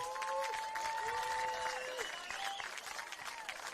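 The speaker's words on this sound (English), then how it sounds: "you can hear this cheer for Fabian Barbiero" Crowd cheering and clapping at a soccer match between Adelaide Comets and MetroStars, a broad, distant-sounding roar heard under commentators' talk, holding steady before tapering slightly.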